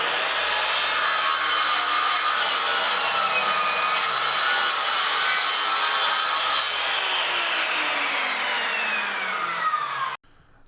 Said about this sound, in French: j'ai utilisé la scie à onglet pour creuser mes encoches